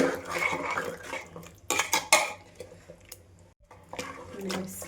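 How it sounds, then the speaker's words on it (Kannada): Mutton pieces and fat being stirred and mixed in a metal pot, a spoon scraping and clattering against the sides in uneven close strokes, with a voice talking over the cooking. "ಸ್ವಲ್ಪ ಚರ್ಬಿ ಹಾಕ್ಬಿಟ್ಟು ಎಲ್ಲ ಮಿಕ್ಸ್ ಮಾಡಿ ಚೆನ್ನಾಗಿ"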